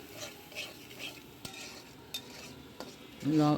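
A rice breakfast dish being stirred in a pan as a spoonful of cumin powder is added, with faint sizzling, a few sharp utensil taps against the pan and a louder clatter at the end, close and quiet without talk.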